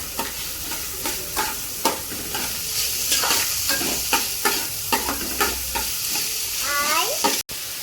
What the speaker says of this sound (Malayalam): ഈ സവാള നന്നായിട്ടൊന്ന് മൂത്ത് വരണം മൂത്ത് വരണം നല്ലൊരു ഗോൾഡൻ ഷെയ്ഡിലേക്ക് ഒന്ന് മാറണ്ട